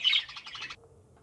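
A burst of quick, high chirps from pet birds in an aviary, one short close chattering phrase that cuts off, then quiet.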